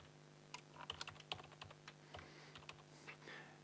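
Quick soft keystrokes on a computer keyboard as a password is entered, a brisk irregular run of light clicks close by in a quiet room.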